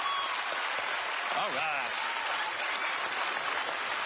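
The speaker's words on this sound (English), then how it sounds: "Give this guy a big round of applause!" A studio audience at a magic show applauds loudly and continuously, with someone briefly speaking and a voice rising over the clapping partway through.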